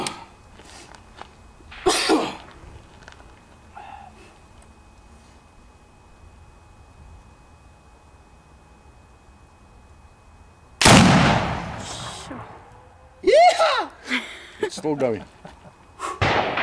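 A single loud, booming shot from a 4 bore rifle loaded with a heavy powder charge breaks a long quiet stretch, followed by people talking nearby at close range.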